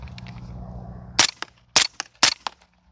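Three sharp, loud suppressed rifle shots fired through a DeadAir Wolfman suppressor using Ammo Inc ammunition, evenly spaced about half a second apart, each with a short crack and quick decay, following a brief low mechanical hum.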